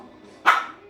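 A Jenday conure parrot imitating a dog, giving a single short, sharp bark-like yelp at close range, with faint background noise and no talk.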